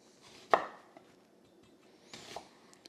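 A knife cuts through an onion toward its root end on a board in a home kitchen, landing one sharp close chop with a fainter second cut and a few light taps between, without talk.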